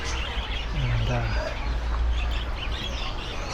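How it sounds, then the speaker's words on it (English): Caged birds at a Hong Kong bird market, with chirps and a few clucking calls spread through a busy, crowded din while a voice speaks briefly. "they just brought their birds out for a walk."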